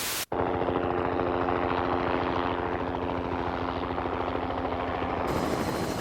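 Steady rhythmic thudding of helicopter rotor blades, loud and close, with a continuous engine whine, running throughout without talk.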